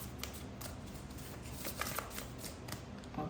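Tarot cards are shuffled by hand in a quick series of riffling, flicking snaps that come close and moderately loud, with no talking.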